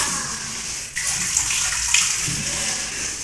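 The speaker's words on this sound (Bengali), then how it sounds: "ঠিক আছে জলটা ভরে নাও" Water pours steadily into a container at a Bengali home during a meal of rice-flour pitha, a continuous close gushing stream running unbroken with no talk over it.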